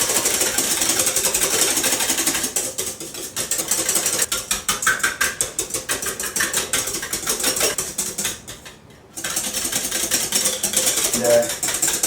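Cream is whipped by hand with a hand-cranked beater, a fast, steady mechanical whirring and clicking that runs almost the whole time, with one brief pause near the end.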